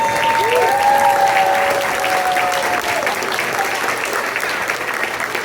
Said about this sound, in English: Please stand up so you can get a round of applause.